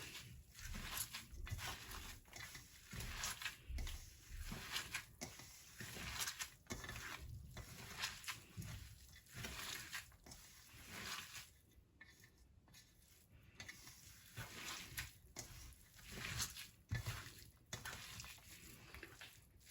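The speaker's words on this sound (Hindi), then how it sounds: "अभी मसाले जो हैं इनको हम अच्छी तरह से मिक्स करेंगे" Faint spoon-and-bowl clinks and scraping while spices are mixed for chicken chapli kabab in a home kitchen, an irregular, quiet clatter that continues throughout.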